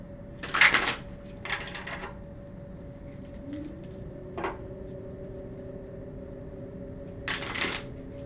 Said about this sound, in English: Let's do one more shuffle with these cards